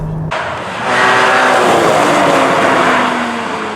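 A Porsche Cayman GT4 with a manual gearbox drives hard, its engine building to a loud, steady roar with tire noise, heard close up without talk.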